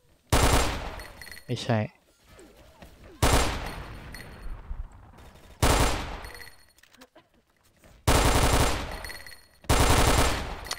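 AUG rifle fire in the video game XSHOT, loud near bursts of automatic shots in four or five separate strings with short gaps, a brief voice speaking between them.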